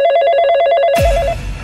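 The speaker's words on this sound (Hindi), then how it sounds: "ये तुम्हारे फोन को भी अभी ही बजना था क्या?" A telephone rings with a rapid trilling bell for about a second, then the ring cuts off abruptly into a loud, muffled rumble.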